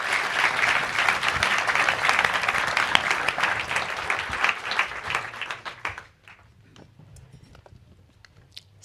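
An audience applauds after a talk, loud dense clapping for about six seconds that then dies away to scattered last claps and quiet room noise.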